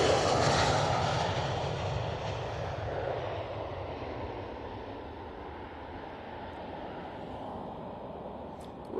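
A Ryanair Boeing 737 MAX 8 roars away on takeoff at Manchester Airport, a loud broad engine rumble that slowly fades as it climbs away, with no talking.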